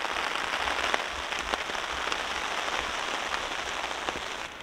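Steady rain pattering on a tarp over a wild camp in Snowdonia's wet hills, a dense continuous patter with occasional louder drops, close and even throughout with no voices.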